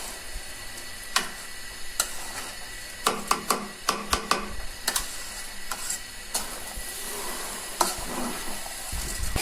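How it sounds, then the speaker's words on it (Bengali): Rice for chicken biryani is fried and stirred in a pan, with a steady soft sizzle broken by irregular sharp clicks and taps of the spoon against the pan, close up. "চাউলগুলো ভালো করে ভেজে নিচ্ছি।"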